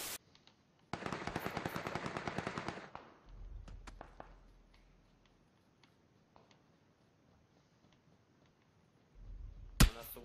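Rapid automatic gunfire from the game PUBG rattles in a dense two-second burst, followed by scattered fainter shots, a low rumble, and one sharp loud crack near the end.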